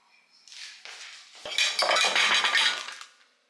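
Dishes and cutlery clatter and clink close by in a kitchen, starting lightly and then building into a dense, continuous rattle of metal and crockery for a couple of seconds before fading.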